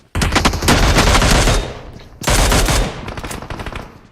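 Loud, close gunfire in two long rapid automatic bursts, the first lasting over a second before tailing off, a short pause, then a second burst that fades into scattered shots.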